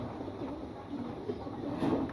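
Pigeons coo softly at close range in a loft, a few low rounded calls over faint background noise.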